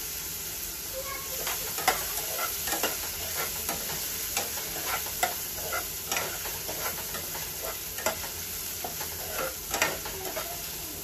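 Onion sautéing in a pan hisses in a steady sizzle with frequent scraping stir strokes and small clinks, close and moderately quiet, with no voices.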